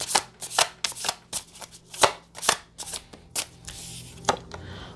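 A deck of tarot cards being shuffled up close: a series of about a dozen quick, crisp riffling flicks in an uneven rhythm, each a short papery burst, and no voices.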